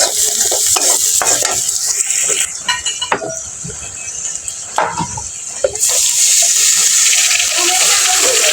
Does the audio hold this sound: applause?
no